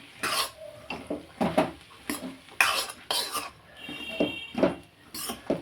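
A utensil scrapes and stirs turmeric rice in a pan for coriander lemon rice, with repeated short scraping strokes in an uneven rhythm, close and fairly loud, and no talking.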